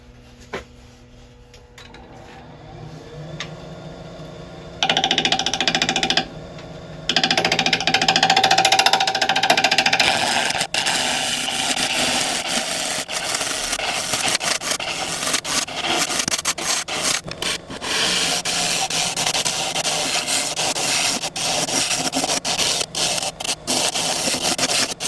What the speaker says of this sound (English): think the scraper is going to come in to try and help sort that lot out